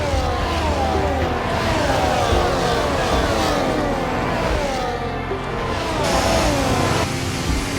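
A Formula 1 car engine, recorded at a real Grand Prix and used in the F1 24 racing game, screams through repeated high revving upshift sweeps, loud and continuous with brief dips between gears, and no voices.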